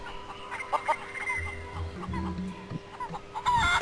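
Chickens cluck in short bursts over a steady electronic hum, with a brief low murmur of a voice mixed in, from the video game The Curse of Monkey Island.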